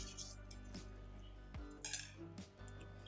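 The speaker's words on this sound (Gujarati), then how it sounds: "ચોખાને ચમચાથી આ મિક્સર જારમાં નાખી દઈશું।" A spoon scrapes and clinks against a mixer jar while soaked rice is scooped in, giving a few soft metallic taps and scrapes, quiet and close.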